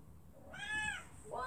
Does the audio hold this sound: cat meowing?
yes